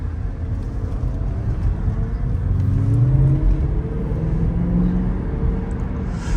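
A car engine revs and whirs through an open window, a moderate rising and falling rumble heard from nearby with no talking.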